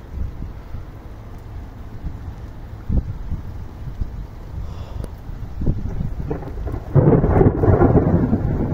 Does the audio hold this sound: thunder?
yes